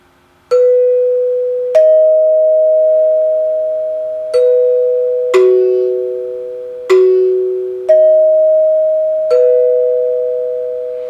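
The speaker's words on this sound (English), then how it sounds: "So it's a sort of faux Westminster chime." A NuTone dinner chime rings out a faux Westminster melody, eight clear struck tones spaced about a second apart, each decaying slowly, close and loud with no voices.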